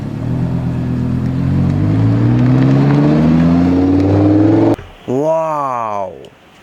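A racing car engine revs loudly and rises steadily in pitch, then cuts off and gives a short, sharp rev that climbs and falls before stopping.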